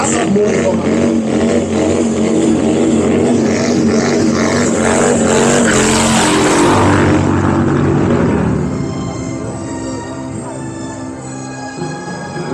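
A motorcycle revs loudly with its rear tyre spinning at the Bike Days Willingen 2024 event, giving a harsh, sustained roar that drops away abruptly near the end.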